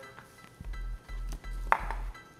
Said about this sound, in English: And just make a couple slices.